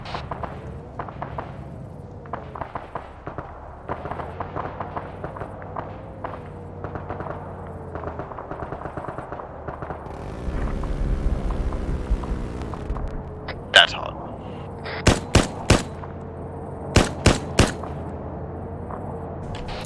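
A ZSU anti-aircraft gun fires in the Arma 3 video game. About six sharp, loud cracks come in the final stretch after a low rumble, with muffled voices underneath.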